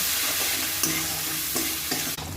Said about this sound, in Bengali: ধনে গুঁড়ো, লঙ্কা গুঁড়ো, হলুদ, নুন ভালো করে কষিয়ে নেব।